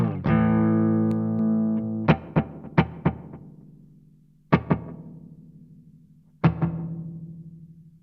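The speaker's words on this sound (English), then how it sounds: "Delay number 1 is a slapback echo." Slapback echo from a DemonFX reverb and delay pedal on an electric guitar: a sustained chord, then sharp plucked notes, each trailed by a quick single repeat and short decay.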